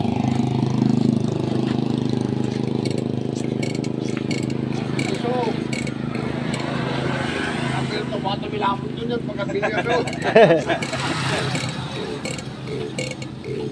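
An air compressor engine fitted with a muffler runs with a steady, droning mechanical hum throughout, close by, while people talk over it.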